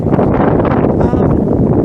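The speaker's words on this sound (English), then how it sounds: "It's very windy out." Steady rushing wind buffeting outdoors in a garden in mid-spring, loud and continuous with gusty fluctuations throughout.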